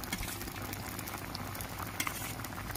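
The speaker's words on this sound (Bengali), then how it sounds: "এবার আমি মাছগুলো দিয়ে দিচ্ছি ঝোলে" Fish added to boiling curry broth with potatoes and ridge gourd, giving a steady bubbling, sizzling simmer that runs continuously at moderate volume with no talking.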